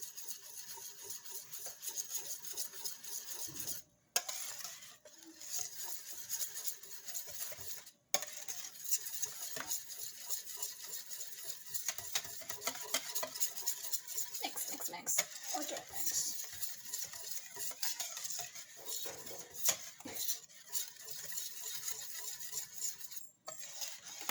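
Pumpkin pie filling being mixed in a bowl, a steady scraping and clinking of utensil against the bowl that continues for the whole stretch with a few brief pauses, close and moderately loud.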